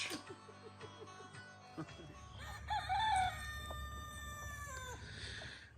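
A Silkie chicken crows near the microphone over steady pasture farmyard background noise, with a few other faint animal calls.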